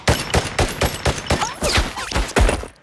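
Rapid automatic gunfire in an action movie, a dense fusillade of about a dozen sharp loud shots in quick succession over a few seconds, up close.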